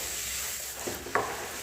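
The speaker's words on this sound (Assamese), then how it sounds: "গুড়খিনি দিও এনেদৰে ভাজি আছোঁ।" Chunks of jaggery fry in ghee with dry fruits and grated carrot for carrot halwa, giving a soft sizzle under a couple of brief scrapes from a stirring spatula.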